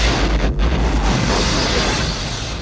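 Booming explosions from an action movie, a dense, loud, noisy rumble lasting a few seconds with heavy low-end weight and a brief dip partway through, no voices.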